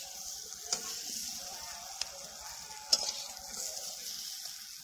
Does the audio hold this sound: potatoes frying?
yes